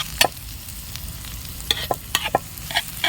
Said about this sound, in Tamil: கொஞ்சம் அந்த நிறம் மாறுற அளவுக்கு வதக்கிக்கலாம்